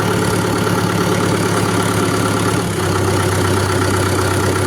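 A Solis 5724 57 HP tractor diesel engine idles steadily up close, a loud, continuous low rumble that holds even throughout, with no voices.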